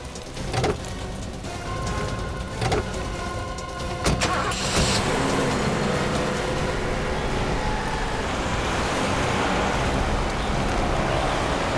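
A car drives steadily during a chase on a road, its continuous engine and road roar building and broadening after a few sharp knocks early on, with no talking.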